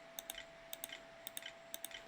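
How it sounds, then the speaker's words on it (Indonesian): Keys on the internal keyboard of an HP 14S laptop with an AMD A4 board tapped in four quick pairs of sharp clicks, close and quiet against a faint steady whine. "Kita masukkan password menggunakan keyboard internal."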